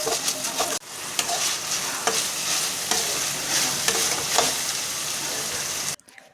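Chana dal and urad dal fry in hot oil with a loud, dense, close sizzle and the stirring scrape of a spoon, continuous for about six seconds before cutting off abruptly, no voices.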